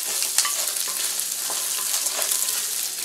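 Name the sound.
small onions and peanuts frying on low flame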